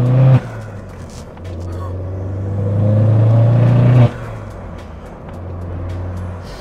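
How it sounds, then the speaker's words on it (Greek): Opel Corsa OPC with a 250 hp turbocharged engine, its intake drawing air and a blow-off releasing pressure as the throttle lifts; a loud, steady engine drone with a brief surge near the start and a sharper cut-off partway through, with voices talking over it. "Ναι, είναι το μανιτάρι της τουρμπίνας που την ώρα που τραβάει τον αέρα και αφήνει τον γκάζι,"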